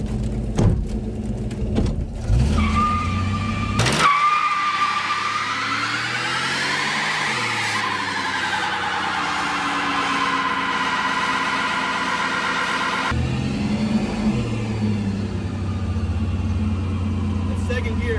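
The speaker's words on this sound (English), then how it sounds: "Burnout before it's too late." An AMC Rebel abandoned for 35 years doing a burnout, its engine revving up to a loud, long rising and sustained roar before dropping back, with people talking and shouting around it.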